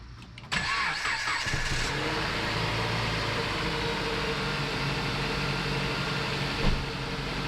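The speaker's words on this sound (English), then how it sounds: "I probably need to start the car" A car engine cranks and fires up after a valve cover gasket and spark plug replacement, then settles into a loud, steady idle close by, with no talk.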